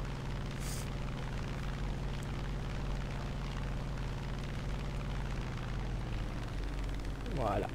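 An F8F-1B Bearcat's piston engine in War Thunder drones steadily and loudly throughout, with someone speaking over the engine.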